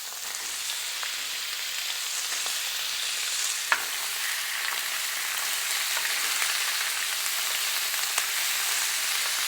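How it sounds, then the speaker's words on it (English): Steak sizzling loudly in a hot pan, a steady crackling hiss with occasional sharper pops, no voices. "you want to hear a sizzle"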